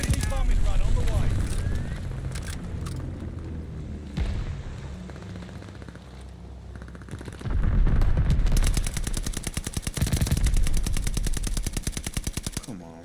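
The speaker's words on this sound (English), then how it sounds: "Friendly bombing run on the way." Bombing-run explosions and heavy gunfire rumble through a Call of Duty Vanguard match, with booming blasts early, then dense rapid machine-gun bursts and loud impacts building toward the end, a player's voice talking over parts.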